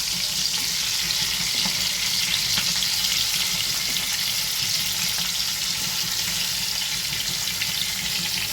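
Hilsa fish pieces frying in a pan of hot oil, a continuous close hissing sizzle with faint crackles, alone with no talk.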